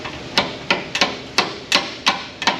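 A control arm bolt on a Ford Explorer being hammered out: eight sharp metallic strikes in a fairly even rhythm, close and loud, with nobody talking.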